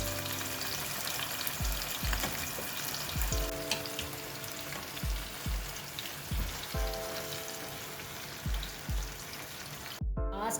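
Chicken frying on a tawa pan: a steady sizzle runs throughout, broken by regular scraping and stirring knocks about every second, close and clear, with a brief louder clatter near the end.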